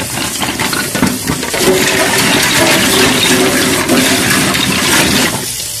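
Shellfish (sisiyaw) being washed under steady running water, a continuous close splashing and rushing with faint clinks of shells, ending abruptly.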